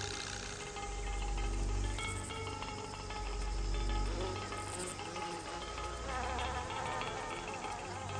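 Robber fly buzzing in a garden, a faint, thin insect whine rising and falling as it darts around, over a soft hum of outdoor ambience.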